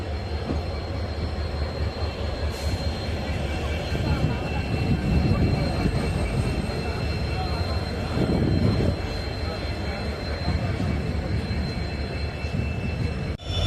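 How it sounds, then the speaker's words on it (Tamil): A train on India's new Pamban sea bridge rumbles past close by, a steady low roar of wheels on rails with occasional metallic squeals, continuous throughout. "இந்த ட்ரெயின் தான் இன்னைக்கு நம்ம பாம்பன் பிரிட்ஜ் மேலே புதுசாக ஓடக்கூடிய ட்ரெயின்"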